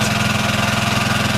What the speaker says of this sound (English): This water pump forces water into that narrow pit